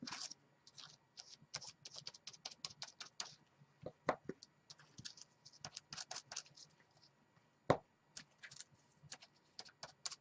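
Rapid irregular tapping and dabbing against paper, a quick patter of soft taps with brief pauses, close up and alone.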